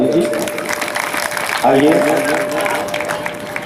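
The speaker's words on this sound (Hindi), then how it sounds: "कमलेश्वर पत्नी है, उनके लिए भी एक बार ताली बजा दीजिए।" An audience at a Ram katha breaks into applause, a dense continuous wash of clapping with a voice speaking over it.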